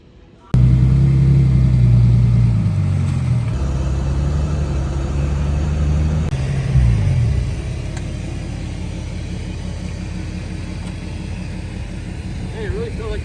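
Vehicle towing a trailer on a snowy winter road, with a loud steady engine rumble and road drone throughout as people talk over it.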